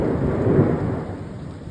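A deep, rolling rumble of thunder after a lightning strike in severe weather, steady and fairly loud for nearly two seconds, fading slightly toward the end with no voices.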